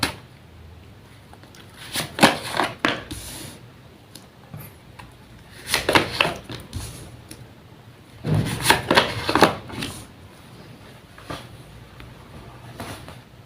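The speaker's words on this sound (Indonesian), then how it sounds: "Langsung saja saya shuffle kartunya." Tarot cards are shuffled by hand in three or four quick papery bursts of riffling and sliding, separated by quiet pauses, close up and fairly soft.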